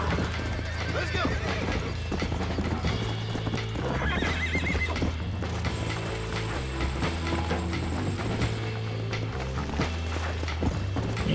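A horse in the Western video game Red Dead Redemption neighs and whinnies over steady clip-clop hoofbeats, loud and close, with game music and a speaking voice layered in.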